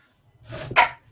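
A single short, sharp sneeze, close and fairly loud, with a brief breathy intake just before it.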